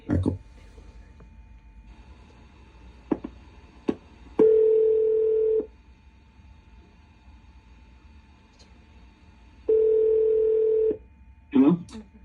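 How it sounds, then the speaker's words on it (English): A telephone number is dialled on a line: a few short clicks and beeps, then two long steady tones a few seconds apart, fairly faint and clean over a low background. "I'm going to dial his phone number"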